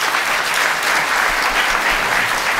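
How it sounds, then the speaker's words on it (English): A conference audience claps loudly for an Internet of Things expert panel, a dense and continuous wash of applause close and steady throughout. "Give a round of applause."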